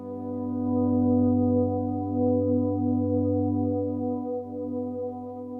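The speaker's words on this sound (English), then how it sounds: "Now another way to play that one is to finger pick it." Finger-picked guitar swell on the root and third of a G barre chord, a steady sustained harmonic tone that rises softly and holds evenly throughout, alone with no voices.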